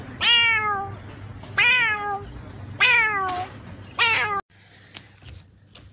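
A cat meows four times in a steady series of loud, close, drawn-out calls, followed by a short stretch of quieter background noise.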